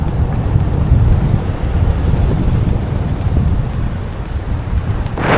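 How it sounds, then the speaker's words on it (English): Outdoor rain beginning to fall on the island of Grenada, heard as a loud, dense rushing wash mixed with gusty wind buffeting the microphone, continuous with no voices. "Start to rain. Start to proper rain."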